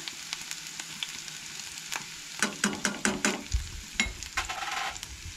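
Grated ginger and garlic are sautéed lightly in a pan for kachori filling, a quiet background sizzle with a burst of brisk stirring and spatula scrapes midway, close and without speech.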